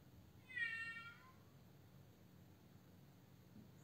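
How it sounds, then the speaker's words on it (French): A cat gives a single clear meow, fairly close, then only a quiet, steady background hiss remains. "Écoute les petits chats miauler"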